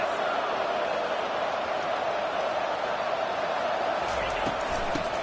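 Stadium crowd at a UAB versus Tulane college football game, a dense continuous roar of many voices that rises slightly near the end, heard under a commentator's voice.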